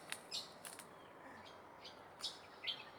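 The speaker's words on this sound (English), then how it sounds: "two birds here because this is their tree" Two birds calling from a feeding tree at sunrise on a riverside walk, a few short, faint chirps scattered over quiet outdoor ambience.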